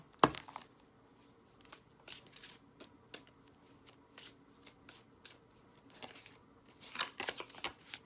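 Tarot cards being shuffled in quick riffling bursts, separated by brief pauses and soft handling sounds, close by and with no voices.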